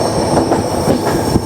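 Barak Brahmaputra Express from New Tinsukia to Silchar rolling past on a single-line track, a steady close roar of wheels and carriages with rhythmic clatter and a faint high squeal, no voices.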